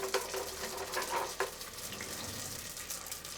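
Vegan egg rolls deep frying in a pot of hot oil, a steady hiss and crackle with a few sharper pops near the start, close and moderately loud, no talking.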